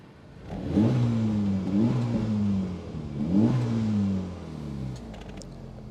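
Two quick throttle blips from a stationary Honda Civic Type R FL5 in sport mode, each climbing and settling back to a smooth idle, recorded up close with no voices.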